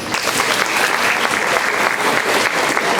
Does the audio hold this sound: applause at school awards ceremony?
yes